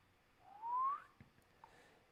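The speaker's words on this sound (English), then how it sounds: "Oh, I whistled and covered myself up." A person gives a single short rising whistle that lasts about half a second, followed by a couple of soft clicks in an otherwise quiet room.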